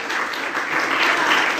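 Congregation applauding in a church during a sermon, steady dense clapping throughout, close and loud.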